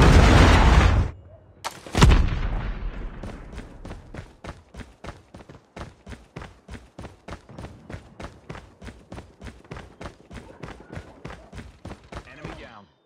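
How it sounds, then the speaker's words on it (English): Video game combat with a Predator missile strike: a loud blast near the start, then a long run of regular sharp gunshots, about two or three per second, steady and close, with no talk. "Predator missile inbound."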